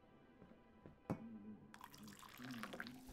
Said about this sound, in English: So grab a cup, fill it with water, and go ahead and water the plant.